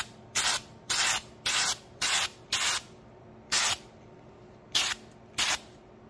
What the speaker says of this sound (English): we're going to see if I can film and spray at the same time